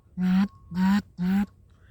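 Three evenly spaced, loud, nasal quacks blown on a duck call, each held briefly and close to the microphone with short gaps between.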